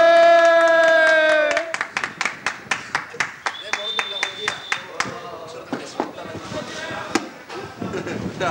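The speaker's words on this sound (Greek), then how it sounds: "Ένα χειροκρότημα." Audience clapping at a village wedding gathering on Lemnos, a run of sharp claps following a sustained musical tone, with voices and crowd noise mixed throughout.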